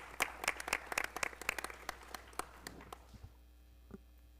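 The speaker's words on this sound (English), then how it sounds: "Round of applause." Audience applause at a school board of education regular meeting, a short burst of scattered clapping for a choir performance that thins out and fades after about three seconds, leaving room hum.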